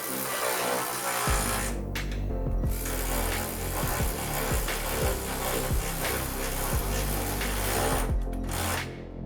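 Power tool driving bolts on the front bumper of a Toyota Corolla KE55, a steady close buzzing whir with repeated pitch sweeps as the driver spins up and stops, running continuously with two brief lulls.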